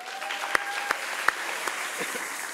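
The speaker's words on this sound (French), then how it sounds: "On peut l'applaudir." An audience at a science-communication thesis contest claps in a moderate, even patter, with a few sharper individual claps standing out near the front and no voice over it.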